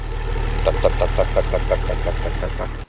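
A BMW 525 tds E39 with a 2.5-litre turbodiesel engine of about 143 hp idles close up. It makes a steady low rumble with an even, rhythmic diesel clatter, then cuts off abruptly.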